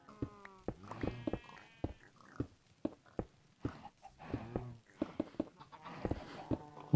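Farm animals in a video game bleat and cluck in short, separate calls, a few sheep and a single chicken, sounding close and clear with no talking over them.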